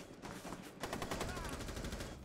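Rapid automatic gunfire crackles in a video game match, a dense rattle of close shots running throughout with voices faintly mixed in.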